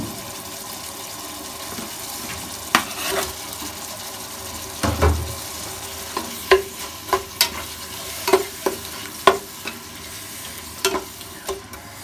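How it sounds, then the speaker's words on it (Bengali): Spice paste with chopped tomato frying in oil ahead of adding meat, a low steady sizzle punctuated by a dozen sharp spatula knocks and scrapes against the pan, irregular and close, no voices. "এখন আমি মশলাটাকে ভালোভাবে কষাই নিই।"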